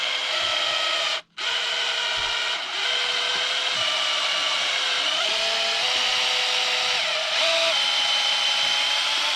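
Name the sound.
drill screwing in an Arrma Kraton wing mount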